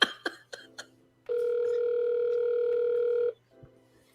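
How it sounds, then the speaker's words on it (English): An outgoing telephone call rings out as a single long steady tone lasting about two seconds, preceded by a few short clicks and beeps, heard clearly and alone. "It's still ringing."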